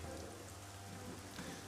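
Rain falls on a town in Arcania: Gothic 4, a faint, steady hiss with a low hum beneath it, constant and unbroken.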